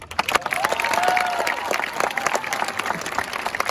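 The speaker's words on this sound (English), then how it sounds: "Can we get one more round of applause for our principal, Mr. Jacob?" Audience at a Legend High School ceremony applauding their principal, Mr. Jacob, with dense sustained clapping from a sizable crowd, some voices and a whistle-like tone mixed in.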